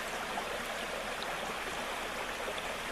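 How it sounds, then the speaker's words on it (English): Stream water flows steadily at a water source on a day hike, making a constant broadband rush with soft gurgles, faint and unbroken throughout. "I'm still getting good flow of water"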